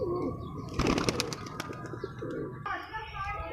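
A breeding pair of pigeons coos in soft, repeated calls close by, with a few brief wing or body rustles and someone talking faintly in the background.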